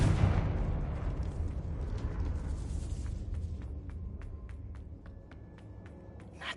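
Confringo blasting spell exploding in Hogwarts Legacy: a loud, broad boom at the start that rumbles and slowly fades, followed by scattered light ticking debris sounds as it dies away.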